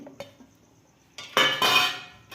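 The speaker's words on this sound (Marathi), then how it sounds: "मिक्सरच्या भांड्यात आपण हे सगळं घेऊया." Hard pieces of thinly sliced raw green mango drop into a kitchen mixer jar, a soft tap followed by a short, bright clattering burst close up.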